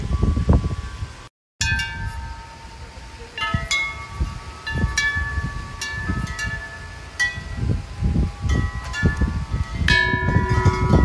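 Metal temple bells in Thailand struck one after another, each clang ringing out with a long shimmering decay over a steady background rustle, with a brief dropout near the start.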